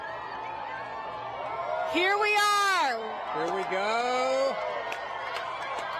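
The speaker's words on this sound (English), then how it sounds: "And the crowd goes wild." Spectators at a total solar eclipse burst into whoops and cheering, a swell of excited voices rising loudly mid-clip and then tapering, with someone talking nearby before and through the outburst.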